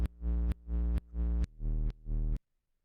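A feedback oscillator sample played on a keyboard sounds five evenly spaced, buzzy sustained notes, each about half a second long and opening with a sharp click artifact, then cuts to silence.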